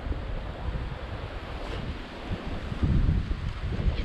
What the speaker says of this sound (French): ce vent magnifique là, qui dessèche tous les nectars de romarin